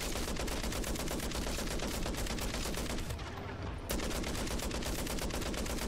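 Rapid automatic gunfire from a weapon in MW3 Zombies rattles loud and continuous, with a brief lull near the middle before the shooting resumes at full intensity.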